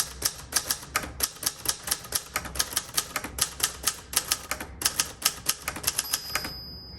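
Adler J5 typewriter being typed on, a steady run of crisp close key strikes at a brisk uneven rhythm, ending with a bell ding near the end of the line.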